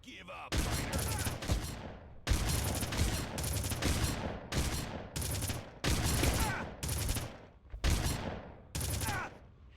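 Heavy automatic gunfire in the video game Red Faction, with repeated loud bursts separated by short gaps, close and dominant, while a voice speaks briefly between them.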